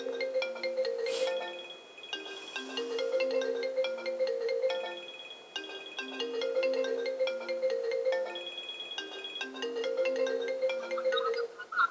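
A mobile phone plays a repeating melodic ringtone during a lesson, loud and continuous for about twelve seconds, with no speech over it.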